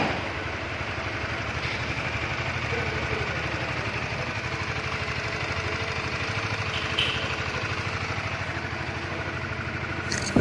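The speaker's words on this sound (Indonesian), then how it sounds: "teman-teman coba hidupkan apakah ada terdengar permasalahan di mesin atau tidak" A Honda CB150R motorcycle engine runs at a steady idle, a close, even mechanical rumble with a fine rapid pulse that holds unchanged for about ten seconds, with a faint click or two and no speech.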